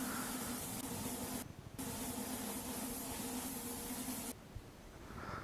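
A steady hissing spray from an airless paint spraying simulator runs for over a second, cuts briefly, then resumes for a few seconds before stopping; close and constant.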